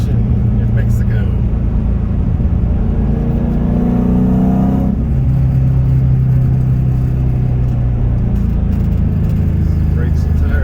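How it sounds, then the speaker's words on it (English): Modified car driven hard on twisty roads at a test location in Mexico. The engine rises and falls steadily and loudly as it accelerates between bends, with a driver talking over it. "let's go take this thing for a quick drive and see how it feels on some twisty turns"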